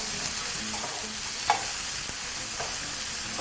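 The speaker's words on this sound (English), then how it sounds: "all you want to do now is just saute that in high heat" Cherry tomatoes sauté in a pan over high heat, giving a steady close sizzling hiss throughout, broken by a couple of brief stirring clicks.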